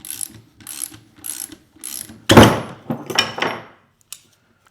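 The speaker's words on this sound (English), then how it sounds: "I have the wrench in my hand" A hand wrench ratchets on a spring compressor while a dead shock absorber is replaced on a BMW E90, several evenly spaced ratcheting bursts followed by a louder metallic clunk and a few scattered clicks, close and alone.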